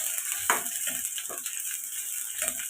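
Chicken chops frying in a little oil in a pan, a steady close sizzle with a few stirring scrapes and clinks of a utensil, no voices.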